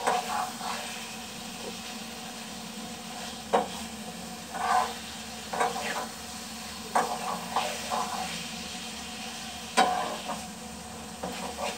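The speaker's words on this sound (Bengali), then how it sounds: "মশলাটা আরেকটু কষিয়ে শুকিয়ে নেব" A Bengali spice paste for potol bhaja is dry-fried in a pan, a low hiss punctuated by repeated bursts of spatula scraping and stirring at an uneven rhythm, close and moderately loud, with no voices.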